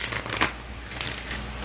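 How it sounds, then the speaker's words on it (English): Oracle cards shuffled by hand during a live tarot reading, a soft papery riffle with a sharper flurry near the start, close and fairly quiet over a low steady hum, no talking. "One more shuffle."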